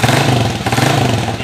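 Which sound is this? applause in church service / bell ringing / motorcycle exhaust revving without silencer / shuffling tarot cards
motorcycle exhaust revving without silencer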